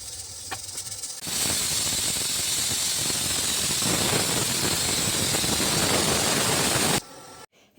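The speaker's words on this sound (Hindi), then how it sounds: "तो कुकर में सीटी आ गई थी," A pressure cooker cooking vegetables in a home kitchen lets out a loud, sustained steam whistle-hiss that starts abruptly and holds steady for several seconds before cutting off.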